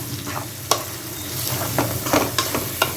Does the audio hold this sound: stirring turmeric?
yes